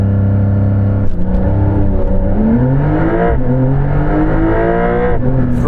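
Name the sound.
Porsche 911 Dakar accelerating hard from standstill, 0 to 60 launch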